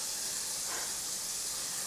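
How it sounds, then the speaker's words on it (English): A spray can nozzle hisses in a steady, even spray for about two seconds, close and fairly quiet with no voices. "Come on, spray nozzle."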